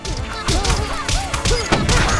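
Rapid bursts of booming cannon fire and crashing impacts in the video game Pit People, loud and dense, with a cluttered layer of sound effects throughout.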